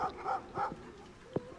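A dog barks a few times in the Eye of Basir video game, short muffled woofs followed by a single sharper yelp, fairly faint and heard alone.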